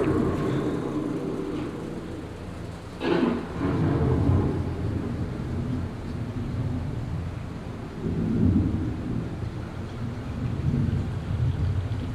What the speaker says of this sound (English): The approaching storm may seem violent and destructive to us, but to nature, it's a beginning of a cycle.